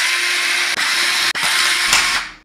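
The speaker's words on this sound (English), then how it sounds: "there's four screws that you have to remove. So go ahead and first remove that." A power screwdriver whirs loudly to back out the screws on a case for an emergency stop switch. The buzzing drive is briefly broken twice by short stops before it winds down at the end.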